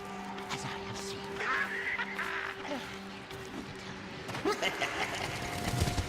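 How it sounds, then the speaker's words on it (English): In the video game Darksiders II, an enemy bursts into a flock of crows, giving raspy cawing and honking cries over busy game sounds, with a voice talking alongside. "This guy keeps turning into crows."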